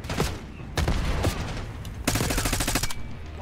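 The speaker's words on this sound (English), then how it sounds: "I'm just shooting" Rapid gunfire in the Call of Duty: Black Ops 6 campaign: close, loud automatic bursts and sharp shots in several volleys, with brief pauses between them.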